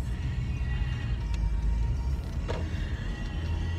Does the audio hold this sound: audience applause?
no